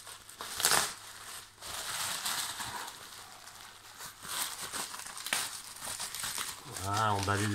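Paper crumpling and crinkling while artworks are wrapped, loud rustling bursts spread across the clip with quieter gaps, and people talking beneath it.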